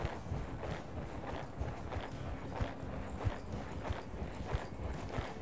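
Horse hooves trot in a steady two-beat rhythm on soft ground, close and continuous, with muffled thuds and no talking.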